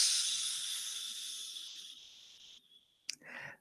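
A soft, airy sizzling hiss that fades steadily over a few seconds, then cuts off, followed by a brief sharp click and a short burst of hiss.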